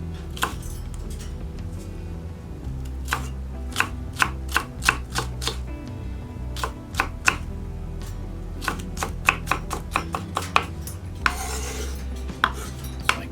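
Knife mincing jalapeno and cilantro on a cutting board, sharp irregular chops close by, some in quick bursts and others spaced out, with a brief scraping sweep near the end and no voices.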